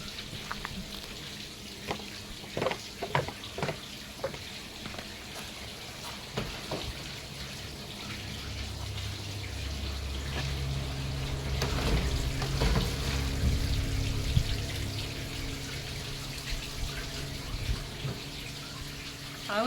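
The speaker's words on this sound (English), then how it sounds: "Now we can fill the pool." Water runs steadily from a hose or tap into an outdoor pool beside a jungle river beach, a continuous splashing rush with a few knocks and clatters around it and a low rumble building partway through.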